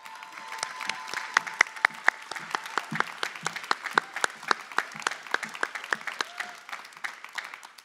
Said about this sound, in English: Can we give all of our graduates a round of applause again, please?